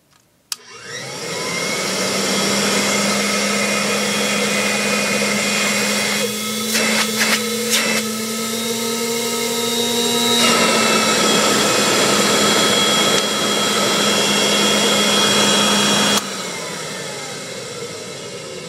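A Rexair Rainbow vacuum cleaner with its original plug switches on with a click, then runs as a loud, steady motor whine with a constant hum. A few brief knocks come partway through, and the pitch shifts slightly near the end, with no speech.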